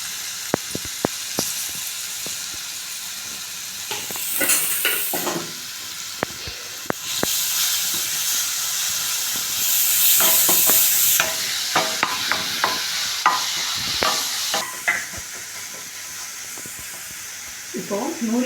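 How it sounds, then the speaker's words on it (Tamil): Grated carrot sautés in ghee in a kadai for halwa, with a soft, uneven sizzle and repeated scraping and clacking of a stirring spoon. Hissing bursts rise and fall, close up. "சேர்த்துட்டு நம்ம திருவி வச்சுருக்கிற கேரட் வந்து இதோட சேர்த்துட்டு வதக்கிக்கலாம்"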